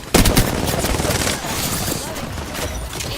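Gunfire in a shooter video game, a sharp opening burst of rapid shots followed by scattered crackling fire and blasts, loud and close.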